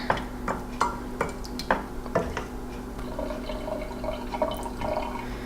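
Sauce is spooned into the bottom of a casserole dish for dairy-free stuffed shells: a series of wet plops and clinks of a spoon against the dish, close by over a low steady hum.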